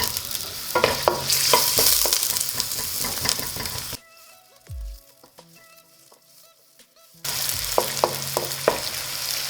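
Red onions fry and sizzle in a pan, with stirring scrapes over a steady hiss. The sizzle drops out for a few seconds in the middle, leaving a brief low thump, then returns just as loud.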